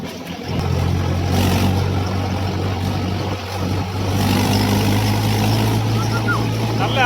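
A tractor engine drones steadily while driving along a small road, a loud, continuous low hum with rumbling road noise that barely changes, heard close throughout with a voice speaking over it.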